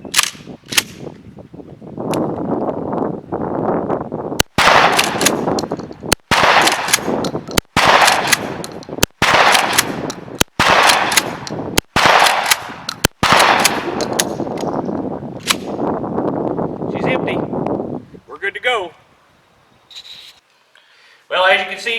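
A CS12-80 gun fires seven rounds from its tube, a series of sharp loud reports spaced a second or so apart over a rumbling roar, followed by quieter voices once the firing stops.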